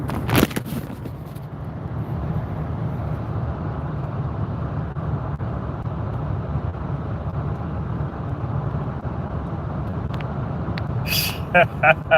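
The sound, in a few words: cars passing on the road while driving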